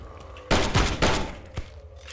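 Shotgun blasts in the VR video game Death Horizon: Reloaded, three loud booming shots in quick succession followed by a sharper fourth, with fainter background game noise between them.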